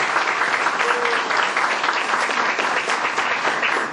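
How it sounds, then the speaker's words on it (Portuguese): Sustained audience applause at the opening of a municipal culture conference in Mesquita, saluting a local NGO; dense, even clapping from a large crowd that holds steady without pause. "Queria uma salva de palmas, por favor, para a ONG Mundo Novo."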